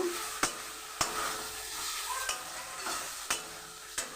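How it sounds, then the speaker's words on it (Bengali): Fried okra being stirred into a frying spice paste in oil, a low steady sizzle broken by regular sharp spatula scrapes and taps against the pan, close and without talk. "আমি ভেজে রাখা ঢ্যাঁড়সগুলো এর মধ্যে দিয়ে দেব তো এটাকেও আমি একটু নেড়ে ছেড়ে নেব"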